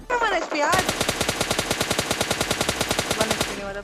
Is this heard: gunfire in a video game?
yes